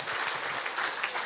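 An indoor audience gives a short, dense burst of applause at a civic town-hall meeting, the clapping steady and moderately distant for about a second.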